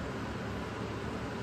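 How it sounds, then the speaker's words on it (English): A Creality Ender 3 V3 high-speed CoreXZ 3D printer runs with a steady, broadband whir and hum, like fan noise, close by and constant with no talking. "It's not the quietest printer"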